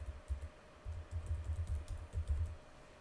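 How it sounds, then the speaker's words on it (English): Typing on a computer keyboard in a compositing editor, a quick run of soft, close key clicks in short bursts with brief pauses, no voices. "I'm going to just type it again"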